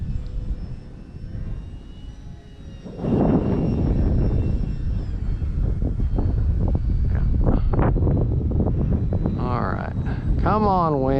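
Heavy wind buffets the microphone at an RC flying field, a steady low roar that grows louder partway through, with the thin whine of a Durafly Tundra model plane's motor and someone talking over it.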